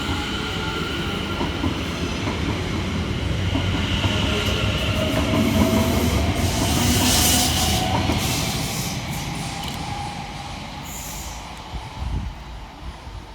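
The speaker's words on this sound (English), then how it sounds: "we see the departure of 710-128 and 710-259, working the 1322 London Overground service from Cheshunt through to London Liverpool Street" Two coupled London Overground class 710 electric trains pull out of Stamford Hill station. Steady rolling rumble and wheel clatter swell as they move off, with faint squeal and hiss, then ease away into the distance.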